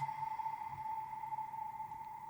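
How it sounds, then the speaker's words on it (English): A single water-drop sample smeared by heavy reverb into a steady, ringing tone that hangs on alone and fades slowly. "I took a Water Drop sample and then added a load of reverb to it"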